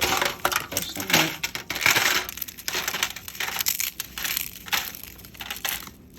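Tortilla chips are crushed by hand for a no-bake taco salad dip, giving close, crunchy crackling bursts in irregular clusters that are loudest early and continue more sparsely.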